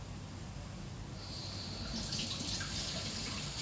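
Vegetables rinsed under a running kitchen tap, the water rushing in with a soft steady hiss about a second in and continuing to the end, close and moderately loud with no talk.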